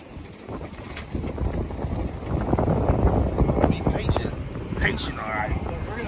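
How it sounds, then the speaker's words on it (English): Wind buffets the microphone on a fishing pier in Miami, Florida, a steady low rumble that builds and stays loud for the whole stretch, with a few faint higher sounds in the background. "It's a nice windy day out here on the pier."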